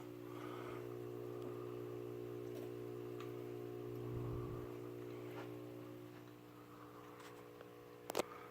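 An A&G Machinery ceiling fan spinning on its low setting with a wobble, a quiet steady motor hum with faint rhythmic ticking, ending in a brief knock.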